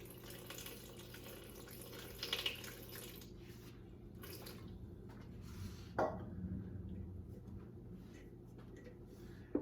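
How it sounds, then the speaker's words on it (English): Lukewarm water poured into a bowl on a kitchen scale for sourdough bread, a faint continuous splashing trickle with a few light clinks and bumps, quiet and close. "I start off with 190 grams of water, lukewarm water."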